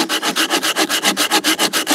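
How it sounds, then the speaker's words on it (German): Hand saw cutting through a branch in the Eifel forest: quick, regular back-and-forth rasping strokes, about a dozen in two seconds, close and loud with no talking. "der sägt jetzt mal mit der Sparko"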